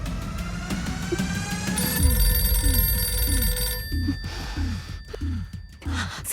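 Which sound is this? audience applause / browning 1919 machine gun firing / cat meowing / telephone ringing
telephone ringing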